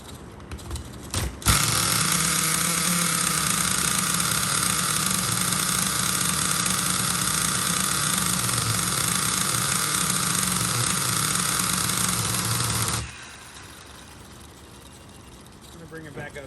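The nitro engine of an XTM Nitro Monster MT RC truck roars steadily at high pitch for about eleven seconds, loud and close, then drops abruptly to a low idle.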